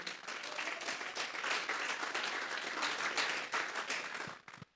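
A church congregation clapping together during a sermon, dense sustained applause at full strength for several seconds before tapering off abruptly with a few last claps.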